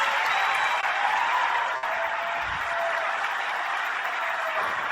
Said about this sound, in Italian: Un grande applauso per Anna Foglietta e Massimiliano Caiazzo.